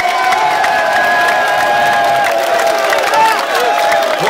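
A large crowd at a Haitian patriotic New Year celebration cheers and applauds, loud sustained shouting and whooping over clapping, with voices rising and falling throughout.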